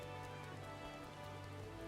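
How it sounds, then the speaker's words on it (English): Steady rain falls in a video game set around whalers, a dense even hiss of drops on surfaces with a low hum beneath, continuous and unbroken for two seconds with no voices. "See this rain?"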